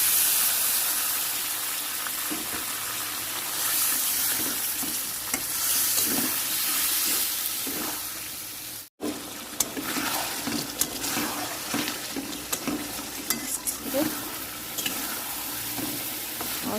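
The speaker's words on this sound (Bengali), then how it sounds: "তো মশলাটা আমি কিন্তু ভালো করে কষাবো। যত বেশি কষাবে তত বেশি টেস্ট আসবে মাংস।" Chicken frying with spice masala in a pan, a loud continuous sizzle and hiss with repeated scraping stirs of a spatula, close up, with a brief cut partway through.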